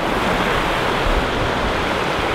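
Snowmelt water pours down a mountainside into a river in Iceland, a steady, dense rushing roar that fills the whole stretch without a break, close and alone with no voices.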